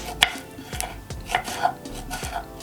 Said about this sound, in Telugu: వంకాయల్ని మనము ఇలా చిన్న చిన్న ముక్కలుగా కట్ చేసుకోవాలి